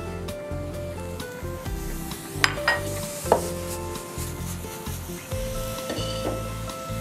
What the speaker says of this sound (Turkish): Yüksek ısı mantar kavururken çok önemli arkadaşlar